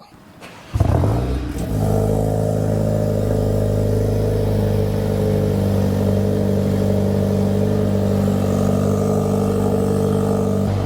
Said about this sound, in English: Liam's going to give us a bit of a cold start